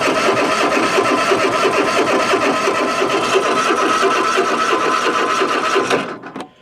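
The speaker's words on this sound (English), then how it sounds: "That starter doesn't sound good." Starter on a Bad Boy zero-turn mower cranking steadily and loudly with a fast rhythmic whir for about six seconds, then cutting off abruptly without the engine catching.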